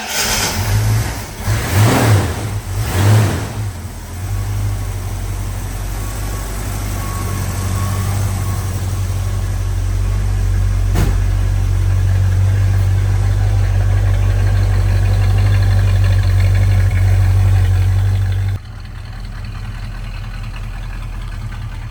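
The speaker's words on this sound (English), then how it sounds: "Okay, we're gonna do a cold start." A 1966 Ford Mustang with a 289 V8 fires up from cold, revs briefly, then settles into a loud, steady low rumbling idle close by before the level drops near the end.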